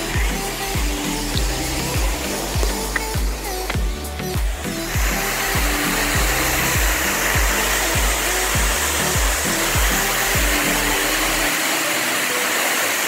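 Water rushes down a waterfall near Muzaffarabad, Kashmir, a loud, dense, unbroken roar with a rhythmic low thumping underneath, heard close and alone for the whole stretch.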